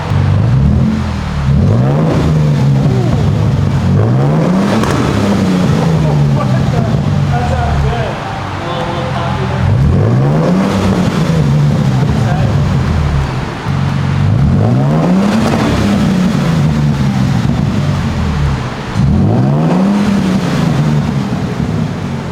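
Third-generation Toyota Tundra with an aftermarket exhaust, revved about five times at a steady pace, each rev a rising, rumbling sweep that falls back to a deep, even idle, heard close up.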